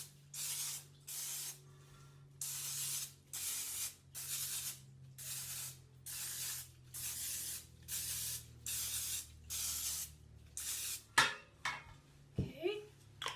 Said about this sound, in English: we're going to spray a muffin tin. Now these should make 12. So I'm going to just spray it.